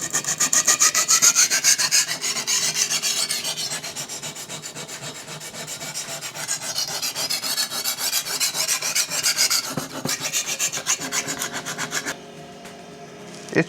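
A chef knife drawn across a diamond sharpening stone, rhythmic rasping strokes repeating steadily and close, a gritty scrape that pauses briefly near the end, no voices.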